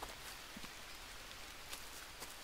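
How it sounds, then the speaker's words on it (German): Steady rain in the Green Hell jungle survival game, a dense, even hiss of drops on surfaces with occasional slightly louder patters, continuous and fairly faint with no talk over it. "Diesmal mit Regen."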